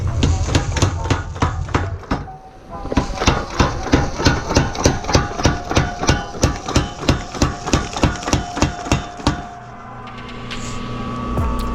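Heavy, evenly spaced hammer blows on hot steel being forged square into a hammer billet, around twenty strikes in a fast steady rhythm, then the pounding stops and a low hum remains.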